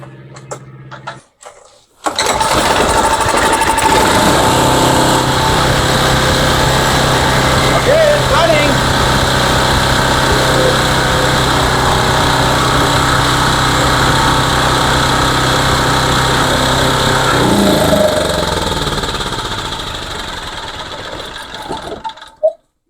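A generator engine starts and keeps running: after a short quiet lead-in it catches near the 2-second mark and settles into a loud, steady, buzzing idle that holds for about twenty seconds before trailing off slightly.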